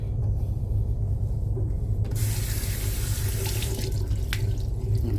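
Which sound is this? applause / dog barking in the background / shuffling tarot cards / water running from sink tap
water running from sink tap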